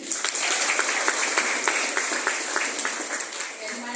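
An audience at a seminar applauds steadily, a dense, continuous wash of many hands clapping at a moderate distance, holding evenly for a few seconds with faint voices mixed in.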